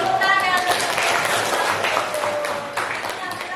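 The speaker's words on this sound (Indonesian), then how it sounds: "Tepuk tangan." A classroom of students claps hands briefly while a teacher's voice talks over the clapping, which stays fairly loud and then thins out toward the end.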